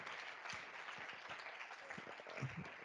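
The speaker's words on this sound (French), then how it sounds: "On peut applaudir nos intervenants." Audience applause for the speakers at a public-health conference on territories and access to care, a soft, steady patter of many hands clapping at a distance, with no voices over it.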